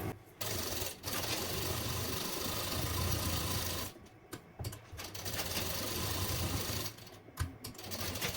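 A sewing machine stitches a princess cut blouse in steady buzzing runs, stopping briefly three times before resuming, close and alone.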